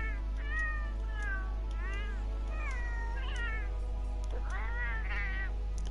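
A feline voice sample from the Monster Hunter World video game gives several drawn-out, wavering meows in quick succession, loud and upfront over a constant low drone.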